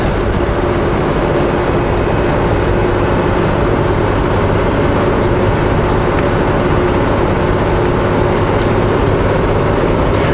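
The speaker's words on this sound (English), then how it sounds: "you guys hear some engine noise, you hear the fan and stuff" Inside a truck cab, a steady broadband roar of the engine and cooling fan fills the whole stretch, loud and constant with no talk above it.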